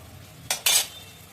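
A spoon scrapes twice through coral fish in a pan with water, salt and turmeric, two short bright stirring strokes close up over a quiet background.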